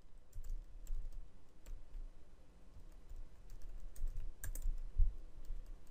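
Computer keyboard typing while writing C++ code for an Allegro 5 platformer game, a steady run of soft clicky keystrokes close by with no voices, a slightly heavier burst of keys near the end.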